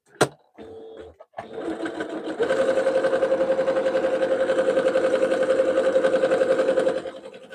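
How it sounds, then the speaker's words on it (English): A sewing machine runs continuously while chain piecing cotton soup bowl cozies. A few short starts and clicks come first, then a steady, fast, close stitching whir that stops abruptly near the end. "we are chain piecing soup bowl cozies"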